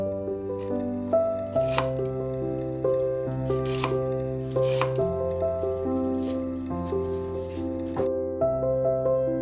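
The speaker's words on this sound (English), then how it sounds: "Prepare 60 grams of celery, finely chopped" A knife chops celery finely on a cutting board for dumpling filling, with quick repeated taps throughout under steady background music and no voices.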